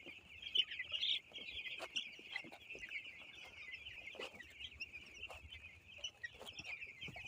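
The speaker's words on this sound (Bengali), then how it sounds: "দেখছেন আজকে হচ্ছে আমাদের মুরগির 6 দিন" Six-day-old chicks on a poultry farm chirp continuously in a dense, high-pitched chorus, steady and moderately faint, with occasional soft knocks in the background.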